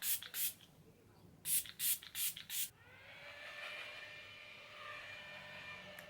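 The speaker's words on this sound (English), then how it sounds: "I'm going to shake it up, and I'm only going to spray like the outside of my face" Dewy makeup setting spray shaken and then misted onto a face: a few sharp rattling shakes followed by a soft, steady hiss of spray lasting several seconds, close and quiet.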